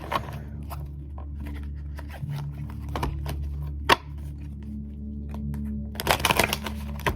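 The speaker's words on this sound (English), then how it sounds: "let me shuffle these cards and then we'll get into it" Oracle cards being shuffled up close in repeated riffling bursts, with a louder flurry near the end, over a steady low hum and no voices.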